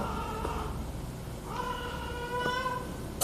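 A house cat meows a few times at close range indoors, drawn-out tonal calls rising over a steady low background hum with no talking.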